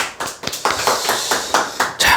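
Loud, close clapping with evenly spaced, sharp claps repeating in a steady beat for a couple of seconds, as if from a small group or a single person.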